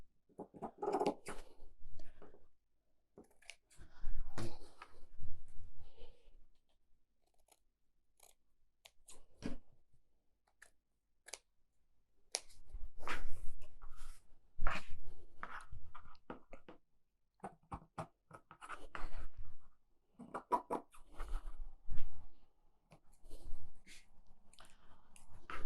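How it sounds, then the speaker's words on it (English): Large scissors cutting off the boxed edges of a fabric cushion cover, close, intermittent crisp snips and rustling in short bursts separated by quiet pauses. "we're just going to cut off these boxed edges."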